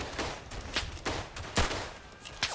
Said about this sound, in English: one shot with the 8mm revolver